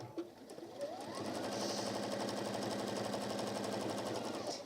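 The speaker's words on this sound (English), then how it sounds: "I'm going to top stitch all the way around" Sewing machine running steadily for several seconds while top stitching around the edge of a lined apron, a fast even mechanical whir with a rhythmic needle tick, close and alone after a brief start.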